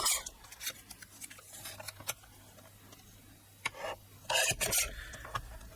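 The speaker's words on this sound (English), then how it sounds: "I'm just going to trim a little bit off the sides." Paper trimmer cutting thin strips off the sides of cardstock, a few close, short rasping slides with light clicks and taps between them, fairly quiet overall.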